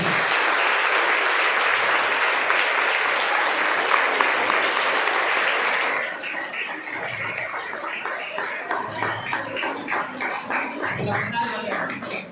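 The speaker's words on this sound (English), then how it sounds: "One big round of applause" A school audience gives a big round of applause after 4th graders' performance, dense and loud for about six seconds, then thinning into scattered, rhythmic claps with voices mixed in.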